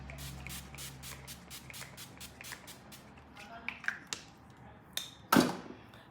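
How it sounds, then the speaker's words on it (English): A Rose Care hydrating face mist sprayed in quick repeated bursts, a rapid series of soft close hisses, followed by light handling taps and rustles and one louder clatter near the end. "the next thing I'm gonna do is to use the Rose Care Hydrating Face Mist"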